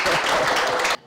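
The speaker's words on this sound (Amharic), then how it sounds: "አጨብጭቡላት እስቲ" A short burst of dense clapping from an audience applauding a student at a school feeding program for students with intellectual disabilities, cutting off abruptly after about a second.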